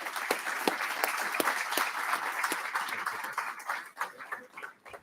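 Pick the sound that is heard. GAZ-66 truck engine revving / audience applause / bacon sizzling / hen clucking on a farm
audience applause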